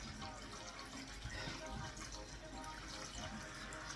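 Hot water running from a tap to rinse out a bowl that held jelly, a steady close splashing stream throughout.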